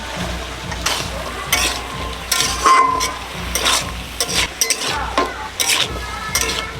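Banana stem and potato fry in mustard oil while a utensil stirs and scrapes the pan, making a continuous sizzle broken by clattering metal strokes, close and fairly loud.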